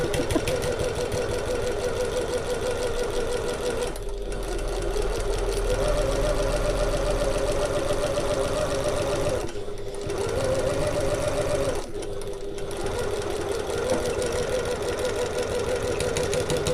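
A sewing machine back-stitches a fabric seam for a pocket, running in a steady close whir for the whole stretch, with a few short pauses where the stitching reverses, and no speech over it.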